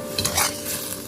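Corn, green peas and diced carrot tossed in a hot wok, a brief burst of close sizzling with scraping stir strokes.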